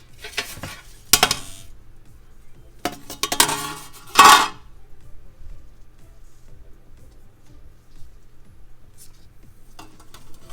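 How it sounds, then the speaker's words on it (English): Metal rack and glass canning jars clinking and clattering as they are stacked into a pressure canner, several short sharp bursts of rattling glass and metal, close by, followed by quieter handling. "I'm going to add my rack and continue stacking on the second layer."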